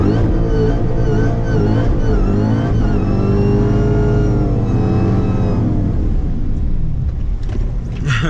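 Dodge Hellcat V8 roaring through a high-speed rolling burnout at night, a loud sustained engine howl with pitch climbing and shifting, tire and wind noise underneath, no talking.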